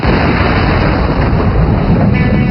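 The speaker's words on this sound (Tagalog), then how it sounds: "Pare, parang may kung ano sumabog dun ah." A loud, close explosion roars as a dense, continuous rumbling blast that fills the whole short stretch without a break, and no voices are heard.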